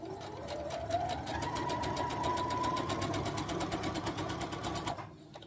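A sewing machine runs steadily for about five seconds, stitching a jelly roll quilt seam, its rapid rhythmic needle pulses close and even before it stops abruptly, with no talk.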